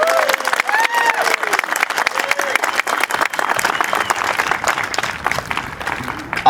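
A rally crowd claps and cheers loudly and close, sustained applause with scattered shouts and whoops rising through several seconds.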